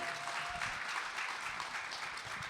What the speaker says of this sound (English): it's worth an applause, isn't it?